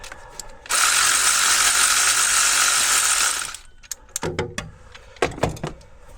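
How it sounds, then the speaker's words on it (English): An electric ratchet whirs for about three seconds as it backs out a bolt on a 2019 Ford F-250 6.7 Powerstroke during serpentine belt work, followed by a few sharp metallic clicks and clunks, close up with no talk. "Nothing like an electric ratchet, I'm telling you."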